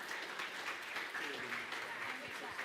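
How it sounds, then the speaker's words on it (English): A church congregation applauds at a Sunday service, steady mid-level clapping spread through the room, with people talking over it. "Yeah, you clap for her too."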